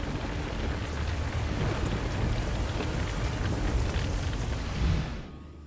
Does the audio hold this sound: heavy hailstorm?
yes